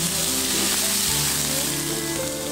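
Cat's eye snails, scallion and ginger crackle in hot oil in a wok, a loud, dense, continuous close-up sizzle with no voices.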